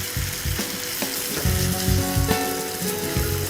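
Paneer cubes sizzle and fry in a hot pan while taking on colour, a dense, steady crackle and hiss that runs throughout at moderate loudness with no voices.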